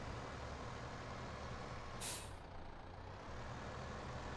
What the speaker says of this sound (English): See how we go at reversing trailers.